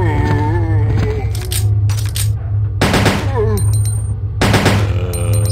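Gunfire in the video game Resident Evil 2, several loud bursts of shots mixed with game music and effects, while a German-speaking player reacts briefly.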